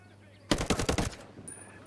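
A sharp burst of rapid unsuppressed Tavor rifle fire in the Ghost Recon Breakpoint video game, about six loud cracks in quick succession followed by a brief ringing tail, close and dominant.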